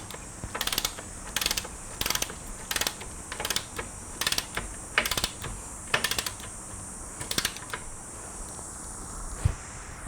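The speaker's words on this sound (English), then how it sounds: "you will tighten your axle bolt to" A torque wrench ratchets an axle bolt tight on the rear wheel of a 2014 Kawasaki ZX10R, giving short bursts of quick clicking repeated about a dozen times in a steady rhythm, close and crisp, with no talk.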